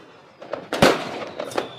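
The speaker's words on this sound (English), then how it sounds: "What about the fireworks?" A single sharp burst of fireworks, with a few smaller pops and crackles around it, fairly loud and close.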